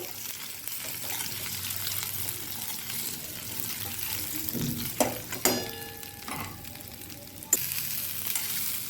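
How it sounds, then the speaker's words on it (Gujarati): Stuffed bitter gourd balls are gently stirred into hot, crackling tempering in a pan, with a steady sizzle, a few sharp clinks and scrapes of the spoon, and no talking. "અને એને સારી રીતે મિક્સ કરી લેશું વઘાર સાથે."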